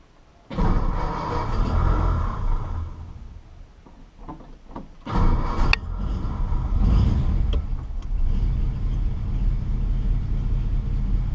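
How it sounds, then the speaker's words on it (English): A 1951 Ford Deluxe two-door sedan engine cold-started without choke on a warm day: a cranking burst catches into a loud, rough idle, stumbles, then revs up again and settles into a steady rumble. "here's a totally cold start"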